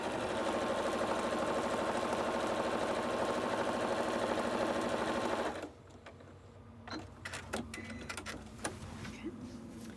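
A sewing machine stitches the seams of a quilted coat in a steady, loud, continuous hum. It stops abruptly partway through, leaving quiet handling noises and light clicks.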